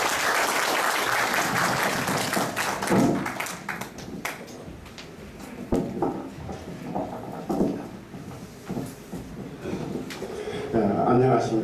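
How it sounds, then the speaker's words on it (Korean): A church audience gives warm applause to welcome a guest lecturer, a crowd of clapping hands that is loud at first, then thins into scattered claps with voices in the room. "뜨거운 박수로 모시겠습니다."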